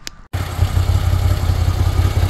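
A 2023 Moto Guzzi V85TT adventure motorcycle engine starts after a short click and gap, then runs with a steady, throbbing low rumble close by, no voices over it.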